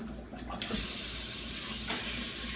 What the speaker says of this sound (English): So I'm going to rinse it again anyway.